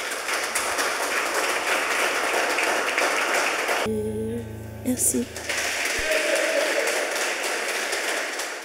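Audience applause for a singer at a youth stage show in Haiti, a broad, steady clatter of clapping that fills the room, broken midway by a short pause where a voice speaks briefly before the clapping resumes.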